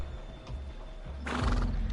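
A horse in the video game Sherlock Holmes: The Devil's Daughter whinnies loudly with a shaky, drawn-out neigh, followed by a burst of bright noise, with a low rumble beneath.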